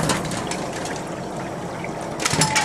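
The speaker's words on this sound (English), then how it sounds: "Allow these to be rinsed." Water runs and trickles over window blinds as they are rinsed after cleaning with a Sharpertek blind cleaner: a continuous close splashing wash with a louder gush near the end.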